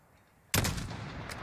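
A single sharp sniper rifle shot in the video game Modern Warfare, a loud sudden crack after a quiet moment, followed by a rolling echo that tails off.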